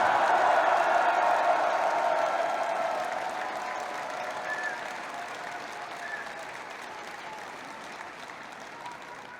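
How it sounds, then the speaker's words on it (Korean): A large crowd at a party convention claps and cheers, loud and dense at first, then tapering gradually into thinner, softer applause over several seconds. "그럼 함성과 박수를 부탁드리겠습니다."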